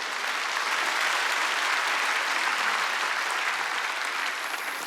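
A church congregation at a Korean Wednesday worship service claps together in a dense, continuous wash of applause that stays steady and full from start to finish.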